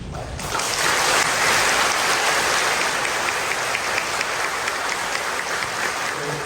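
A congregation claps steadily during a Catholic anniversary Mass in a church, a dense wash of applause that swells early and holds at an even level to the end.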